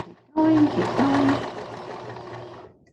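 A sewing machine stitches fabric for a square pillow sham, a steady whirring run with a rapid needle rhythm that starts abruptly and tapers, with a voice speaking over it.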